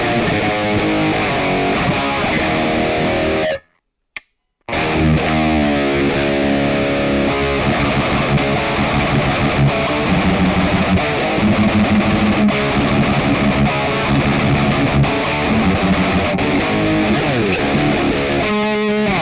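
Electric guitar played through the 5150 amp model of a Sonicake Pocket Master, loud and heavily distorted with dense sustained chugging, cutting out briefly to silence about four seconds in before resuming.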